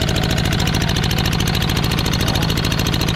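A diesel engine drives an irrigation pump, thumping in a fast, steady, regular knock with a loud, close mechanical drone and rattle that holds constant the whole time, without speech.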